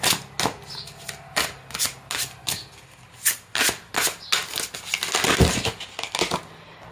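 Tarot cards are shuffled by hand in a quick series of crisp riffling bursts and soft slaps, close up and fairly quiet, with brief pauses between flurries and no talking.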